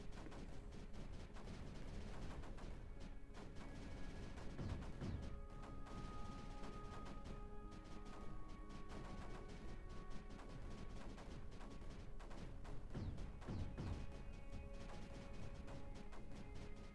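Cannons fire continuously in the strategy video game Creeper World 4, making a dense, loud barrage of crashing impacts and booms with no pauses over many seconds.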